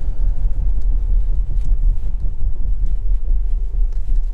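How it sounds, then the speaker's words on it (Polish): A Kia Sportage on 18-inch wheels drives without electronically controlled suspension, giving a steady, loud, low road rumble and tyre noise with a continuous engine drone and no talk. "Tak jeździ samochód bez elektronicznie sterowanego zawieszenia."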